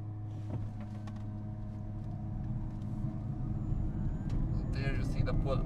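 A Tata Tiago EV XZ+ electric car pulls away from a standstill in sport mode, giving a low steady rumble and faint rising whine that build gradually, with a voice speaking over it.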